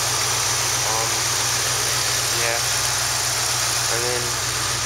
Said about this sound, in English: Got my Mustang going again. 5-liter motor. We put a holley carburetor on it,